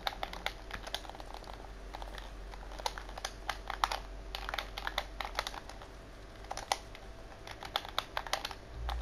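A computer keyboard is typed on rapidly during a Fortnite game, with bursts of sharp, close key clicks over a quiet hum and no talking.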